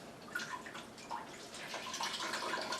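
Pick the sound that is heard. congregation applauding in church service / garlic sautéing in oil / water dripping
water dripping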